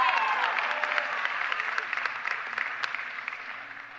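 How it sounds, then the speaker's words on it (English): High school graduates at a commencement ceremony applaud themselves, a full roar of clapping that starts strong and slowly fades over a few seconds. "Give yourselves a round of applause."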